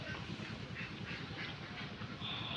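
A flock of ducks quacks steadily inside a net-enclosed duck house, a dense rhythmic chorus of harsh calls carrying on without pause.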